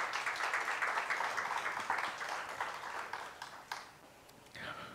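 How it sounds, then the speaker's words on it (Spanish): Church congregation applauding during a Spanish-language sermon, a dense wash of hand claps that holds steady and then tapers off toward the end. "Dale un aplauso al Señor."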